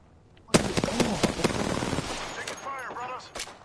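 Gunfire in a shooter video game: a sharp burst of rapid shots, then scattered cracks and a few later single shots, with whooshing effects near the end.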